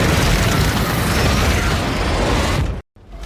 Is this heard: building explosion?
yes